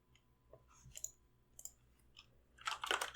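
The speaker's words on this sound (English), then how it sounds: "Sorry about all the loud typing again." Loud typing on a computer keyboard, with scattered sharp clicks and taps at an irregular pace that build into a denser burst of rapid keystrokes at the end, close and fairly quiet.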